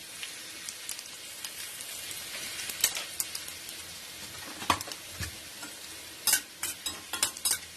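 Two dried red chillies and five-spice seeds crackling in hot oil, a faint steady sizzle broken by sharp pops and spits that grow more frequent toward the end.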